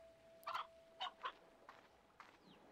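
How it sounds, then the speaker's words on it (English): Short, soft chicken clucks from the Slime Rancher 2 video game, three or four quiet bursts over faint background noise and a thin steady tone. "How bouncy are the chickens?"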